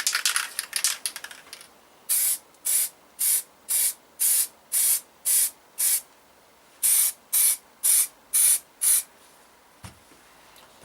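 Aerosol spray paint hisses in short, even bursts onto a small Yamaha TDM850 motorcycle part for its first coat: about a dozen bursts near and loud, in two runs with a brief pause between, the early bursts overlapping, a soft knock near the end.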